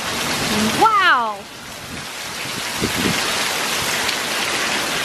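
Heavy rain pours down during a sudden storm, a loud, dense, continuous roar of drops; a person's rising exclamation rides over it near the start.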